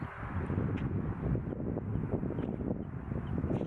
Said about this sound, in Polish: po prostu wieje wiatr